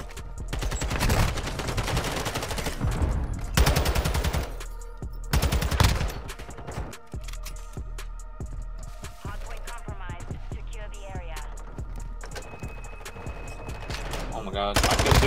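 Gunfire from a ranked online shooter game, with repeated loud bursts and single shots through the first half, then quieter scattered shots and game noise, under occasional speech.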